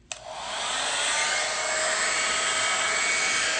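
A handheld hair dryer switches on with a click and then blows steadily and close for a hair blowout, a loud continuous airy whoosh with no talking.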